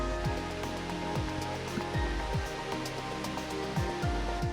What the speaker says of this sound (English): I don't know if this is considered the same waterfall as the one back there, or if this is number 4